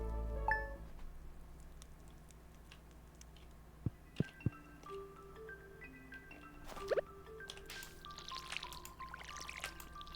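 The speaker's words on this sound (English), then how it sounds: "Water my powder melons" Powder melon crops being watered in a video game: a soft, faint pouring trickle under quiet tonal game sounds, with a few brief plops and splashes near the middle. No one speaks.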